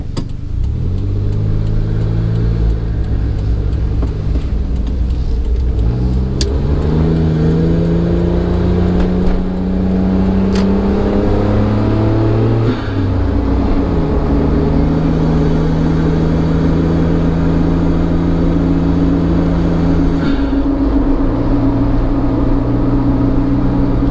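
A Suzuki Jimny JB23W engine fitted with a ZERO-1000 Power Chamber intake hums and rises through gears while driving, a close steady drone with pitch climbing and dropping at each shift and no talk over it.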